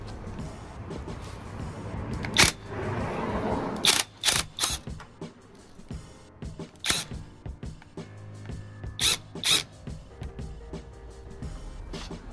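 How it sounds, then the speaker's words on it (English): An impact gun works a 6 or 7mm hex fixing on a Renault Clio 3 front shock absorber, firing several short, sharp hammering bursts spaced apart over a low background hum. "we'll see if the gun wants to just strip it straight off"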